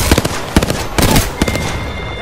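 Bursts of video game gunfire crack out in quick, uneven volleys, several sharp shots clustered close together over a dense, noisy battle mix.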